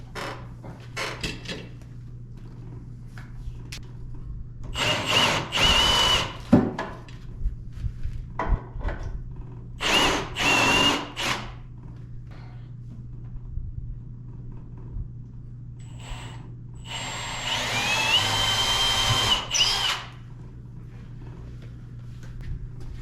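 A power drill bores a hole in wood for mounting an antique Massey No.17 wood vise, heard in a few loud bursts of whirring separated by quiet handling knocks and clatter, with one longer final run.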